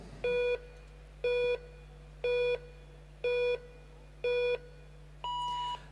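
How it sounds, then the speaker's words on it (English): A track cycling countdown timer at a World Cup velodrome sounds six loud, evenly spaced electronic beeps about a second apart. The final beep is longer and higher, over a steady low hum. "There's the first beep, then there'll be 5 more beeps."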